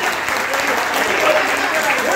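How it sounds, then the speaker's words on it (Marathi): Steady, loud applause from an audience at a teachers' batch reunion get-together, dense continuous clapping throughout with no pause. "तर मंगेशसाठी आणि सीमाताईसाठी जोरदार टाळ्या होत्या"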